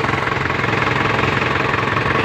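An Isuzu Crosswind engine runs at a steady idle with a rebuilt steering gearbox fitted, giving a loud, continuous knocking diesel rumble, close up and without talk.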